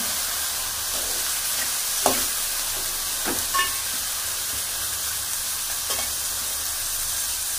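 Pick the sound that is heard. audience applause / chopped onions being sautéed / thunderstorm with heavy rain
chopped onions being sautéed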